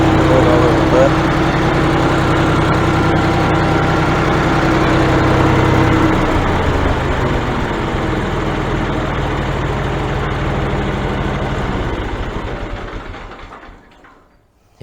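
An engine fitted with a Marvel Schebler carburetor runs steadily at a loud, rough idle, then winds down and fades out toward the end, with a voice over it.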